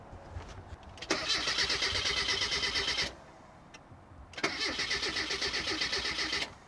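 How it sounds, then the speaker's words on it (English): A car engine with an empty fuel tank cranks in two long bursts of rapid rhythmic starter whirring, separated by a short pause, close and fairly loud, never catching. "We're gonna go and try and start it."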